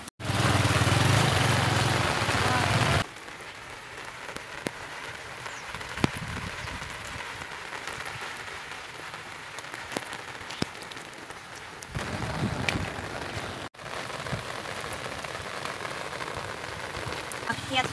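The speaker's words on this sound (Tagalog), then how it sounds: "Lakas na naman ng ulan." Heavy rain pours down outdoors, a dense continuous hiss that is loudest in the first few seconds, then settles into a steady drumming wash with occasional sharper drops and brief disturbances.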